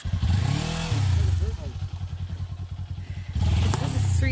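A Ninja 400 street motorcycle climbs a hill, its engine rumbling and revving up and down close by, with a choppy, pulsing stretch between louder surges.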